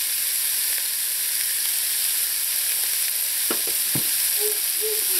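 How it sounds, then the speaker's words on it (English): Chopped scallions and carrots, seasoned with salt and black pepper, sauté in a pan with a steady close hiss, and a few light utensil knocks near the end. "I'm going to allow these vegetables to saute in here for about 5 minutes"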